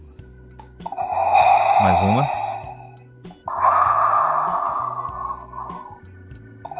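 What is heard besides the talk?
Darth Vader Funko Pop figure breathing sound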